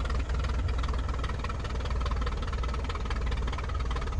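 A DHC-1 Chipmunk's piston engine runs steadily during a magneto check in a flight simulator, a constant loud rumbling drone with no pauses or voices.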